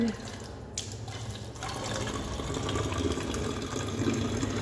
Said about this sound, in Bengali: এবার পড়বে জল